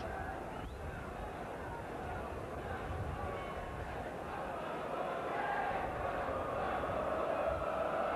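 Massed voices of a football crowd at Sunderland vs Wolves, 1992, form a continuous far-off rumble that grows gradually louder toward the end.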